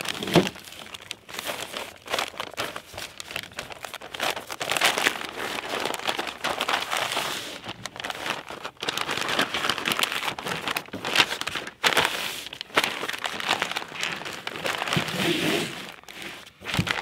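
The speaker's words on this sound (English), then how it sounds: "use the 12-inch butcher paper right here and use two sheets, and we'll lay those down and wrap them up" Two sheets of 12-inch butcher paper crinkle and rustle steadily while wrapping smoked beef ribs, with dense crackling close by and no talk.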